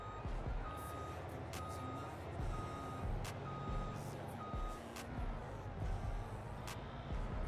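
A truck in the farming game Farming Simulator 22 reverses, its backup alarm beeping in a regular repeating pattern over a low engine rumble, clear and close, with no talking.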